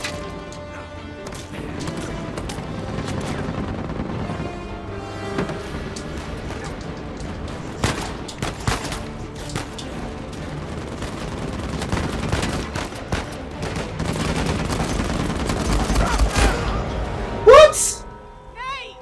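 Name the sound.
gunfire in video game Uncharted 4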